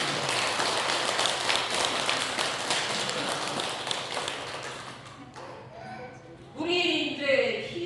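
An audience at a Korean Won Buddhist prayer ceremony claps in a sustained, dense round of applause that fades out, followed by a brief stretch of voices talking.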